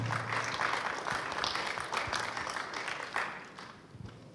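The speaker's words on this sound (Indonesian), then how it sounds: "Bisa beri tepuk tangan saudara?" Guests at a church wedding blessing break into applause after the vows, a broad wash of clapping from a crowd that tapers off near the end.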